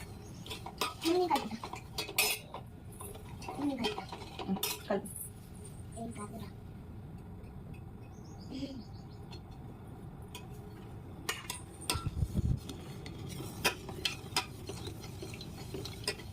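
A spoon stirs gulab jamun mixture in a bowl, giving quiet, scattered clinks and scrapes at an uneven pace, with soft room noise between strokes.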